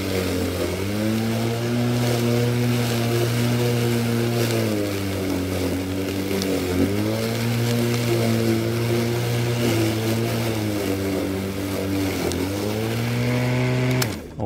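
A Greenworks 40V 16-inch battery lawn mower mulches grass with a loud, close, continuous electric motor whine. The pitch sags briefly three times as the blade bogs under load, then recovers, and the motor winds down at the end.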